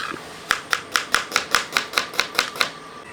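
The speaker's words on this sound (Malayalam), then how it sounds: "ഇതേപോലെ ചെറുതായിട്ട് അരിഞ്ഞെടുക്കുക." A large onion being chopped finely with a knife on a board: a steady run of about eleven crisp, evenly spaced chops, close and clear, with no talking.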